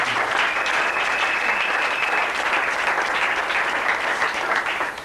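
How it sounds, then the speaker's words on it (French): A church congregation claps loudly and steadily, a dense sustained wave of applause with a few cheers and whistles mixed in, filling the whole stretch without talk. "Acclamez très fort"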